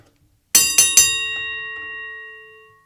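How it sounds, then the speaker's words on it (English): A small bell is struck three times in quick succession, bright ringing tones that linger and slowly fade to silence. "ring the bell."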